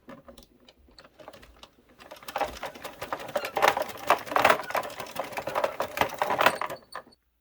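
An Addi/Sentro knitting machine works faux fur yarn into a scarf, making a steady, rapid clicking patter that starts faint and grows louder and denser before stopping abruptly.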